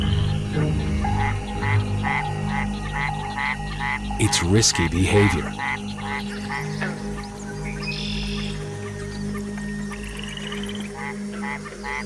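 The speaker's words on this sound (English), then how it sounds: "To attract a female, the Mexican white-lipped frog makes a series of chirping sounds." Repeated short chirps from male Mexican white-lipped frogs calling for females pulse in a steady rhythm against a dense night chorus, briefly masked by a burst of noise, with a voice speaking over them.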